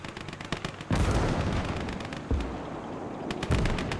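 Machine gun fire in the WWII strategy game Call to Arms: Gates of Hell: rapid bursts of gunshots with dense rattling volleys and heavier booming blasts, loud and fairly close, with no talking.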